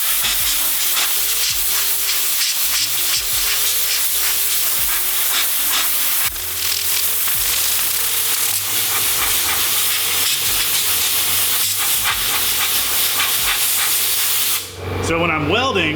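TIG welding on metal sounds as a steady, loud hiss with a faint electrical buzz underneath, running almost without a break for about fifteen seconds before a short shift in tone near the end.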